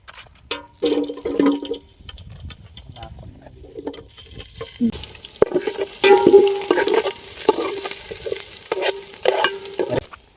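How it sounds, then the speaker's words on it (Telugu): Onions frying in oil, loud clattering stirs and scrapes in bursts over a crackling sizzle that swells once the onions hit the pan, close and uneven, no speech. "ముందుగా అయితే మనం ఆయిల్ పోసుకుందాం. అయితే ఆనియన్స్ వేసుకుందాం."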